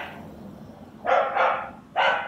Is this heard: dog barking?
yes